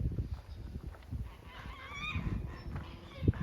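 Several geese honk loudly nearby in a series of harsh, uneven calls, with low rumbling outdoor background noise, near a new 2025 Mercedes-AMG CLE53 coupe.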